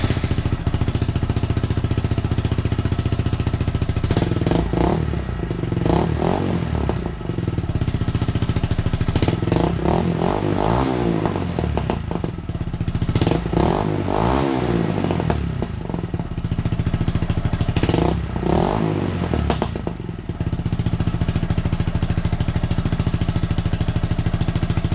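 A Honda Grom motorcycle with an aftermarket exhaust runs loudly and steadily, with several sharp revving bursts rising and falling over a rough, throaty idle.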